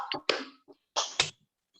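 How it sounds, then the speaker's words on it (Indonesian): A classroom of students claps once together in a short, sharp group clap, with a second burst shortly after and faint voices around it. "Tepuk satu."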